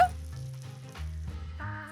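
Steady sizzling and frying of idli pieces in hot oil, with a brief clink of stirring near the start, continuous and close.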